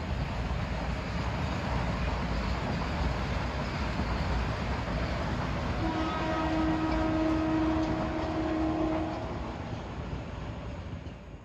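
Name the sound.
Metro North train 749 passing old station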